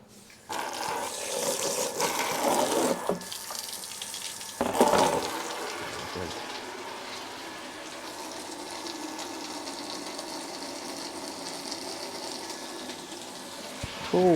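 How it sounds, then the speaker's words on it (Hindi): Water runs from a tap into a laundry tub in a steady rushing stream, loud at first and then settling into a continuous fill, with a few clunks and handling noises. "और इस टब में भरता हूँ पानी।"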